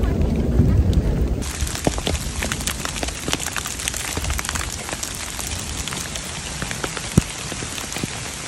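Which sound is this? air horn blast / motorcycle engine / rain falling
rain falling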